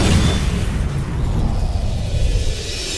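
A loud, rumbling explosion fills the clip, a deep boom that churns and slowly settles into a low roar.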